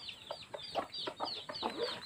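A chicken clucks in a rapid run of short, choppy calls, close by and moderately loud, with no talking.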